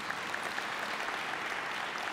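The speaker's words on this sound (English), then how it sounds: "let's give him a round of applause" A college convocation audience applauds steadily, a soft, even wash of many hands clapping at a distance with no talking.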